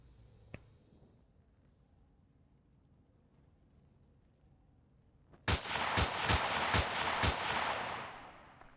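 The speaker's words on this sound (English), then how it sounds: "This guy's going to be just trying to light me up with freaking Gatling fire." Gatling fire from a drone gunship in the Empyrion space game, a burst of about six rapid, loud, evenly spaced shots that erupts suddenly after a quiet stretch, over a steady background hum.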